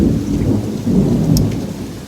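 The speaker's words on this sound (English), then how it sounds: "There's like constant, frequent lightning, and that was close." Deep rolling thunder from nearby lightning during a big storm, rumbling loudly and continuously over steady heavy rain, with no talking.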